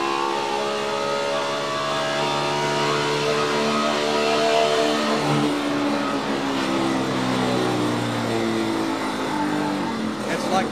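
Race car engine at Fontana on a NASCAR lap, revving and straining with a rough, rattling death-rattle tone, loud and continuous throughout, with a voice talking over it.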